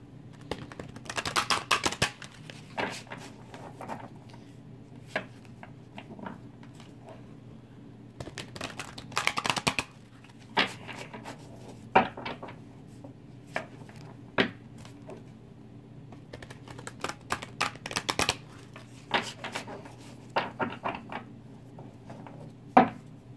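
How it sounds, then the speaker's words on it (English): Tarot cards being shuffled by hand, with scattered bursts of crisp riffling and tapping separated by quiet gaps, close and fairly faint. "Just gonna shuffle these really quickly."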